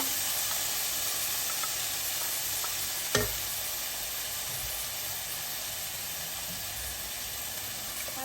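Washed rice in a hot pan, a continuous bright sizzling hiss throughout with a single sharp clink near the middle, close and steady.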